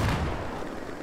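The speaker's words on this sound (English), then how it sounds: "But I'm still enjoying the shotgun." A QBS-09 shotgun fires in the Battlefield 4 video game, a short, loud booming blast with a lingering low rumble, heard alone.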